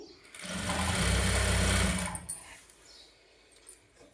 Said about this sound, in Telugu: తక్కువ టైంలోనే నార్మల్ మిషన్ పైనే ఫాలు కుట్టుకోవడం అన్నమాట